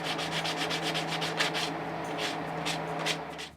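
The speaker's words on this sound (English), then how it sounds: "I use a drum sander to get the curves and the shapes in the wood" A drum sander shapes curves into a piece of wood, producing a continuous abrasive rubbing hiss with rhythmic surges as the wood is pressed and worked, close and steady.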